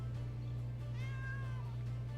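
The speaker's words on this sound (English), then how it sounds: "Meow. I agree, Cat." Cat gives a single short meow against a steady low hum, fairly close and clear, with no talk over it.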